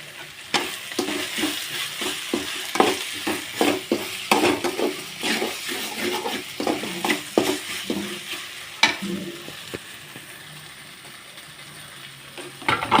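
Onions fry in a pan until they darken, with a constant sizzle under frequent clattering stirs and scrapes that grow sparse toward the end.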